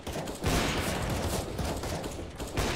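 Gunfire in the video game CS:GO, a dense burst of rapid shots filling the moment, loud and close.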